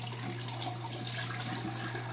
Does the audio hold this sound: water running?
yes